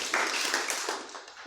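A church congregation claps together in a short, dense burst of many hands, fairly loud and steady, with no talk over it.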